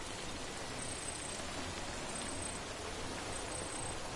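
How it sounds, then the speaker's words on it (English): Soft, even rain in a video game hisses steadily throughout, a constant faint patter with no breaks or voices. "But it's still raining."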